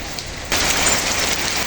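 Steady rain falls with a continuous hiss that thickens and grows louder after the first half second, with no voices over it.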